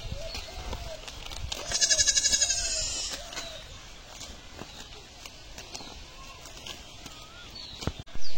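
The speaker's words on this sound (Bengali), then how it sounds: "সকাল থেকে না খাওয়া ছিল ছাগলগুলো, এখন দেখেন কিভাবে খাইতেছে" Hungry goats eating on a farm, with one or two loud nearby bleats, rustling leaves and movement between, and a person speaking intermittently over the scene.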